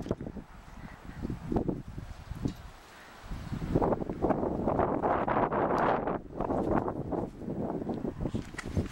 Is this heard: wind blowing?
yes